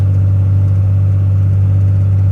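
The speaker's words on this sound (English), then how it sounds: "As you can see, it says diesel behind me, so clearly it's loud." Loud, steady drone of a diesel pickup truck engine while driving, a heavy low hum that holds constant from start to finish with no talking.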